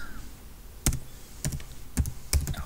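Computer keyboard typing while renaming a layer in stacked text programming software, five or six sparse, crisp key taps spaced apart against a quiet background.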